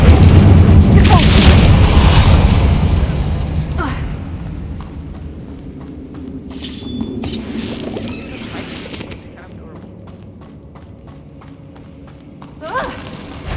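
The Incendio fire spell in Hogwarts Legacy bursts with a loud, deep boom and rumbling roar that fades into softer game ambience, with a brief shout over it.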